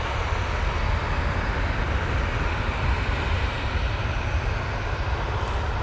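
Jet airliner engines at Manchester Airport produce a steady, loud broadband roar that holds evenly throughout, with no voices.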